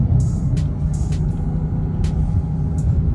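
A 2021 Dodge Charger Hellcat Redeye rumbles steadily through a downshift, a dense low engine drone filling the whole stretch with a few short hissy bursts over it.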